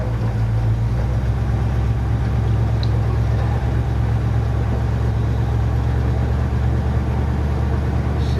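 A 1967 Firebird runs steadily with a deep, continuous engine rumble as it pulls away, loud and close, with a faint bright tick partway through and no talk over it.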